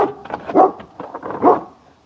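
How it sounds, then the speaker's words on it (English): A dog barks twice out of view, the sharp barks spaced about a second apart at moderate distance with faint background noise in between. "This is not my dog"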